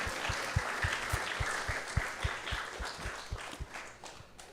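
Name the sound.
audience applause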